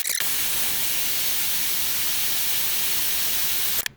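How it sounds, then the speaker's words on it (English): A MAP gas torch roars in a steady, loud broadband hiss as it heats the slide pin boss of a brake caliper on a 2006-2018 Toyota RAV4 during a brake job, starting and cutting off abruptly with no talk. "Get out the MAP gas, and I'm just going to torch this area right here."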